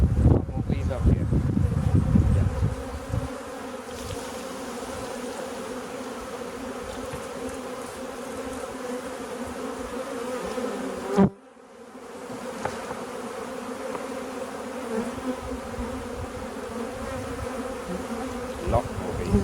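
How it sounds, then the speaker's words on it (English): Honey bees in a healthy colony drone steadily at an open hive. The buzzing is loud and close at first, then settles into a dense, continuous hum with one brief dropout partway through. "More bees up here."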